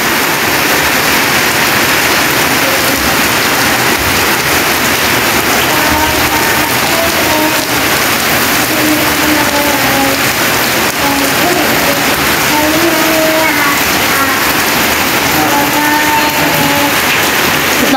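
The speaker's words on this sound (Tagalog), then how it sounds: "Napakalakas po ng ulan dito." Heavy rain pours steadily onto a roof, likely hardiplex sheeting, as a dense, loud, continuous wash of drumming drops lasting throughout with no break.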